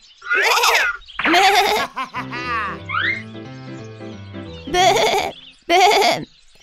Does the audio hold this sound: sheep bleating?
yes